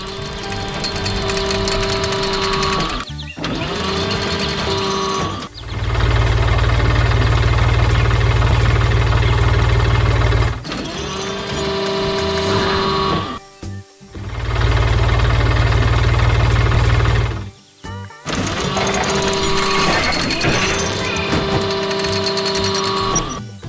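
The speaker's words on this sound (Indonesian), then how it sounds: "Lihat traktor biru yang sedang bekerja keras di tengah kebun bunga yang ceria" A tractor engine with a loader in an animated cartoon runs in alternating stretches, mechanical clattering broken by deep, loud rumbling bursts, with no talking.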